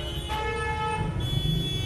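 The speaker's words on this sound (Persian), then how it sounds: "این بوقا چی میگه آقا؟" Car horns toot amid Tehran street traffic at a red light, a sustained tonal honk holding steady and then shifting pitch partway through, over a constant low rumble of engines.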